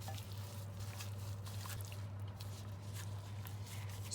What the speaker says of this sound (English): we'll mix that around using our hands